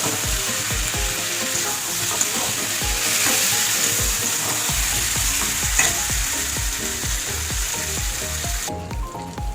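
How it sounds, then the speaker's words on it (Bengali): Pre-fried chicken pieces sauté in spiced oil in a pan, producing a loud, steady sizzle with frequent spatula scrapes and clinks, close up and without speech. "এবার আমি মাংসটা দিয়ে দেবো। ভেজে রাখা মাংসটা দেবো। দিয়ে ভালো করে কষে নেব।"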